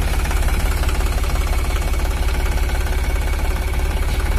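An Iseki NT540F tractor engine running at idle, a loud, steady, rapid diesel knocking pulse heard close up and alone.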